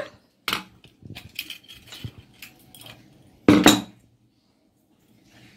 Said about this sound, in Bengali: ছোলার ডাল আমি একটা সিটি দিয়ে বন্ধ করে রেখেছিলাম। এবার খুলছি কুকারটা।